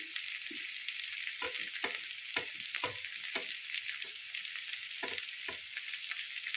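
Potato curry stirred in a pan, with steady frying sizzle throughout and repeated soft scrapes and clacks of the spoon against the pan, close and alone without speech.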